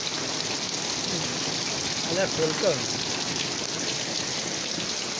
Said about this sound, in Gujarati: બહુ વરસાદ આવ્યો